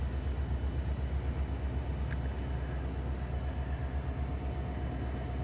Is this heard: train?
yes